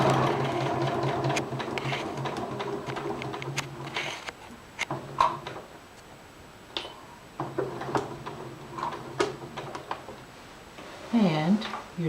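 A sewing machine stitching a tower placket runs in steady whirring bursts with brief stops, up close, while a person talks over and between the runs.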